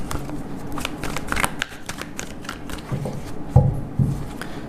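Tarot cards being shuffled by hand, a dense run of riffling, slapping card sounds close up and fairly loud, with a few louder bumps near the end.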